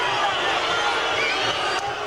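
A boxing crowd in the tenth round grumbles and murmurs in steady, unhappy disapproval, a dense roar of many voices that stays loud throughout.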